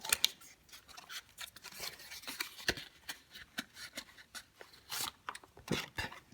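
Plastic blister packaging being torn and cut open from a Star Realms deck-building card game box, with close, quiet crinkling, snips and rustles in irregular bursts.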